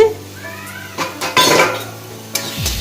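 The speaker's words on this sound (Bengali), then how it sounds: "2 মিনিট পর ঢাকনাটা খুলছি" A pot lid lifted off a simmering katla fish curry with mango, a few close metallic clanks and scrapes against the rim over a low steady kitchen hum.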